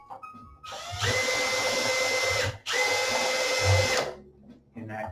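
A power driver drives screws into a Derby Owners Club arcade main board, giving two sustained whirring runs of about a second and a half each, loud and close, with short pauses and faint low sounds between them.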